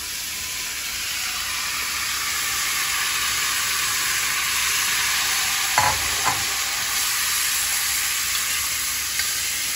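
Tomatoes cook with fried onions in a pan under a loud, continuous hissing sizzle, with a couple of soft utensil knocks partway through and no talking.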